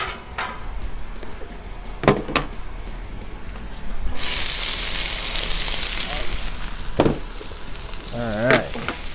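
Vegetables hitting hot oil on a Blackstone griddle at about 350 degrees. A loud broad sizzle bursts in midway and keeps going steadily, with a few scraping clicks and brief speech over it.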